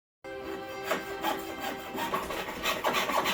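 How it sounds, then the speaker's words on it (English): Close, steady rasping strokes of a small hand saw cutting out the hood of a Hot Wheels Porsche GT3 RS model car, repeating at an even pace without speech. "I drill out holes that I'm able to insert my saw blade into"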